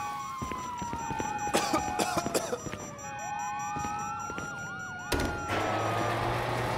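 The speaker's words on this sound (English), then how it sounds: "you hear that? Sirens." Police sirens in the video game Grand Theft Auto V wail and sweep up and down through the whole stretch, with a second siren layered over the first and sharp clattering bangs mixed in.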